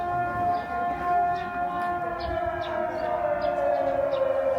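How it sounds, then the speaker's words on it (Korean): A civil defense siren sounds at noon near Lushun Prison in Dalian, China, holding a long, steady wailing tone, loud and sustained, with faint background noise beneath it. "지금 정오 12시여서 약간 이런 사이렌 소리 나오는 것 같은데"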